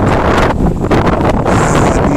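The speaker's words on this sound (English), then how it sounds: "I mean, the wind here is powerful." Strong, cold wind at Montreal's Olympic Stadium on a freezing day, buffeting the microphone with a loud, continuous roar that surges and dips.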